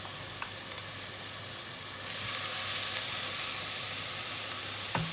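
Minced green chillies go into a hot pot for a vermicelli meat pilau, raising a continuous frying hiss that swells midway, close and alone with no talking.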